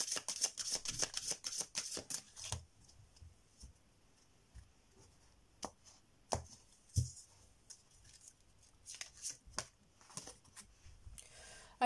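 Tarot cards being shuffled by hand, a dense riffling patter in the first two seconds, then scattered soft card slaps and flicks with quiet gaps, close and clear with no talking.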